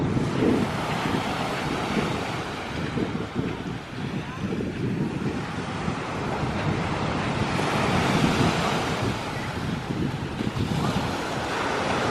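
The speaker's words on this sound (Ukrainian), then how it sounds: "Сьогодні знову великі хвилі." Big storm waves break and wash onto a shore under strong gusting wind, with steady roaring surf and wind buffeting the microphone throughout.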